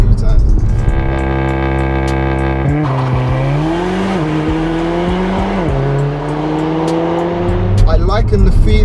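A tuned Mercedes A45 AMG engine revs high with strong harmonic tones on launch control, then climbs through gears in rising sweeps, loud and close throughout.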